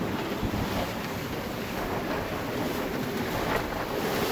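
Rough water roaring against a moving boat as its hull slams into steep waves, with wind buffeting the microphone and a steady wash of spray and surf throughout.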